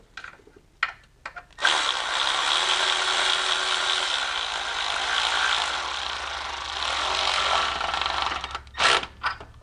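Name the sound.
tightening BMW E46 timing chain mounting plate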